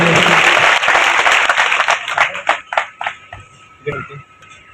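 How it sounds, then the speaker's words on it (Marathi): An audience at a Shiv Mahapuran katha gathering claps loudly in a dense burst for a couple of seconds, then the applause thins to scattered individual claps and fades away. "आपल्या सर्वांना जोरदार जोरदार टाळ्या वाजल्या पाहिजे."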